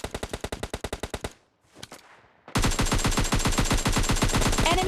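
Rapid automatic gunfire from a PUBG Mobile Lite match, a loud close burst that stops briefly, gives way to faint rustling and a shot or two, then resumes as a longer, denser stream of fire with a bright chime near the end.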